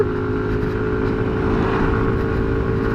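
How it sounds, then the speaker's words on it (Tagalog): A Yamaha NMAX TechMax 155 scooter engine climbs a steep uphill road in the Philippines without shifting, giving a loud, steady, close drone with no pauses and no talking. "Tignan natin kung kayang-kaya ng ating motor NMAX TechMax yung ahon dito."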